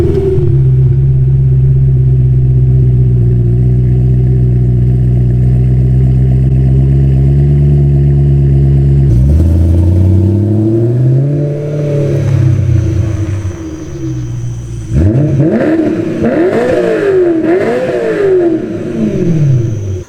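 BMW M3 exhaust fitted with Cherry Bomb Extreme mufflers, a loud steady idle rumble followed by several rising and falling revs, close and alone with no talking.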